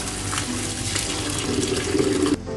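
Vegetables are rinsed under a running kitchen tap, with a steady close splashing flow that cuts off abruptly near the end.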